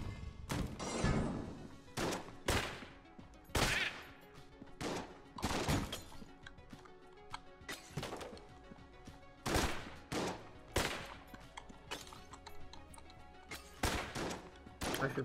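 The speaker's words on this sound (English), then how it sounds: "I should probably just not be firing blindly." Rapid video-game gunfire in Enter the Gungeon, fired in a boss fight against the Beholster. Loud sharp bursts and single shots come in uneven clusters, mixed with impacts and crashes.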